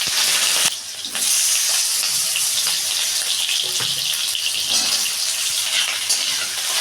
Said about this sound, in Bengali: তো বড়িগুলো ভেজে তুলে নিয়ে ওই তেলে দিয়ে দিচ্ছি আলু।